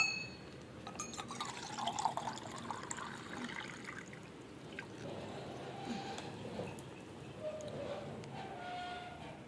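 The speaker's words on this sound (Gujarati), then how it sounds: "થોડો ગ્લાસ ધોઈ નાખીએ આપણે" A glass rinsed under running water: soft trickling and dripping with a few light glassy clinks, fairly quiet, with faint voices and household noise behind.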